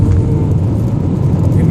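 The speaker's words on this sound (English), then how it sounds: "There is an unending line of cars" Steady, loud roar of busy road traffic, an unending line of cars streaming in both directions on a road a little south of Martinez, California, continuous and close with no pauses.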